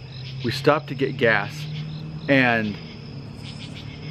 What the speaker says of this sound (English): And you can hear, those are crickets or cicadas or something.